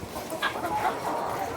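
Hens on a farm, grown from chicks to laying size, cluck in a short close burst of several soft broken calls over a low background.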